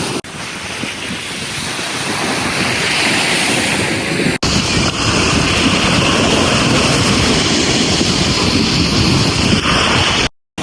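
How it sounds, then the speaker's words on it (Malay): Strong wind buffets the microphone over steady surf at Segari beach in Perak, a loud continuous roar of waves and gusts with one brief dropout near the end. "Angin dia best gila kat sini."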